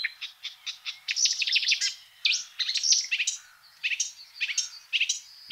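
A marsh warbler sings in Dutch wetland, a close, busy stream of rapid chirps, buzzes and mimicked notes in short, varied bursts, with no talk.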